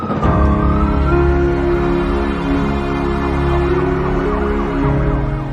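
A COVID-dedicated ambulance in Himachal Pradesh sounds its siren, a loud, close, continuous wailing tone that rises and falls steadily with no voices over it.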